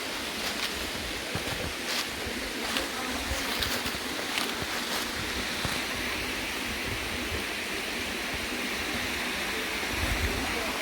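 A waterfall at Cumberland Trail State Park gives a steady, broad rushing roar of falling water, constant and fairly distant, with no break over the whole stretch.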